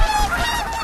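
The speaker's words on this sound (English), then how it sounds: "the 11 swans flew down to her." Swans flying down honk in a short, dense burst of nasal, goose-like calls that sound close and fairly loud, with several birds calling over one another.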